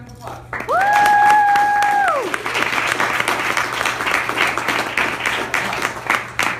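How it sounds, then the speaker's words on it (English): A big audience round of applause for a Master Pro 10 speaker, loud dense clapping and cheering that starts sharply, stays strong, then thins into scattered claps, with a high whistle at the start. "So give him a big round of applause."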